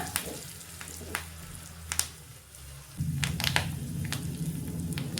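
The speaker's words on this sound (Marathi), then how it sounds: "अशी जेव्हा आपण खिचडीला फोडणी घालतो ना, खूप सुंदर टेस्ट येते आणि वासही खूप छान येतो." Crushed garlic and curry leaves crackle and sizzle in hot oil with asafoetida for a dal khichdi tempering, popping close up and growing louder and denser partway through.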